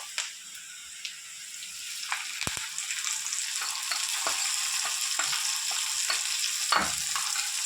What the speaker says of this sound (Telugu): కొంచెం ఇంగ వేసుకొని కరిపేసుకొని తాలింపు పోసేసుకున్నాం